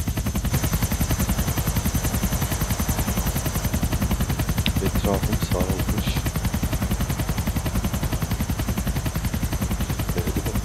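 In Grand Theft Auto IV, a police helicopter's rotor chops steadily and loudly while bursts of gunfire crackle underneath, with a brief spoken line over the din.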